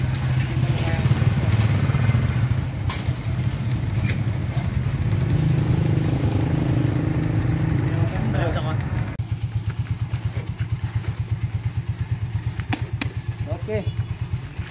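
A motorcycle loaded with sacks of rice fertilizer idles and putters in a steady rhythmic chug close by, with the engine note dropping and settling partway through while people talk over it.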